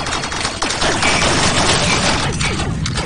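Rapid gunfire in the Rec Room VR shooter game, dense bursts of automatic shots crackling continuously and loudly throughout, with no talk.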